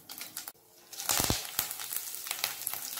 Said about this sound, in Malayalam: അപ്പോൾ നമുക്ക് കടുകിട്ട് പൊട്ടിക്കാം.